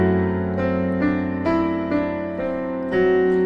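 A piano plays the melody of a song: a slow line of single sustained notes over held chords, about one new note every half second, clear, close and steady in level.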